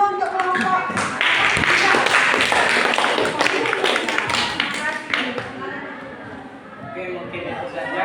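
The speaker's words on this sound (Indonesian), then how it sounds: "tepuk tangan dulu untuk kelompok" A classroom gives a group a round of applause, with many hands clapping loudly and densely close by, the clapping thinning and fading toward the end amid some chatter.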